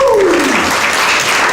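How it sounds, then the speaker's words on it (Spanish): A church congregation fills the room with a sustained wash of applause, loud and close, a voice trailing off at the very start as the clapping swells. "Denle un aplauso al Señor."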